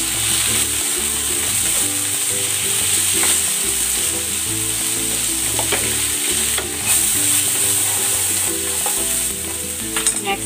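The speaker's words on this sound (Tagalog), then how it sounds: "igigisa ko na rin tong sibuyas. And next, kamatis." Onion and tomato sautéing in a hot pan, a dense, steady sizzle with occasional stirring scrapes, under light background music.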